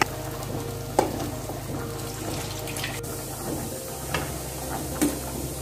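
Mutton pieces hitting a hot pan of browned shallots and curry leaves for Chettinad mutton chukka, giving a steady close sizzle with a few sharp spits and clatters and no voices.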